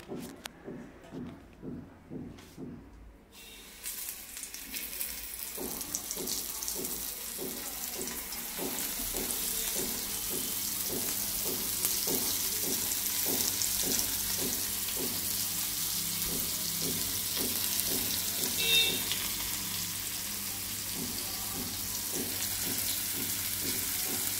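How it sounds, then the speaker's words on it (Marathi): Rawas fish pieces go into hot oil with a rhythmic stirring or dipping sound. This gives way to a steady, loud, hissing sizzle that keeps going as the fish fries, close up and without speech. "आता ही फिश आपल्याला या पिठामध्ये मिक्स करून आणि ती तळून घ्यायची आहे"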